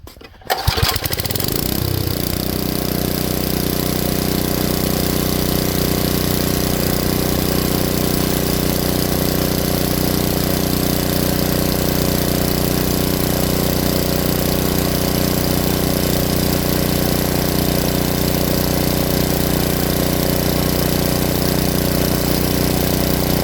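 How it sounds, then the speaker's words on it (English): A Tecumseh engine on an Ariens rototiller roars loudly and steadily for the whole stretch after a brief rough start, with a constant droning hum and no talk. "now with the engine running smoothly"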